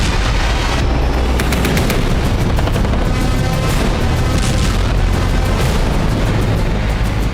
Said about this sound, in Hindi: एलओसी पर फिर गोलीबारी हुई है।